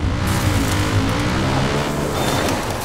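Engine of a motorcycle in Far Cry 5, running steadily and loud throughout with a continuous low rumble and no voices.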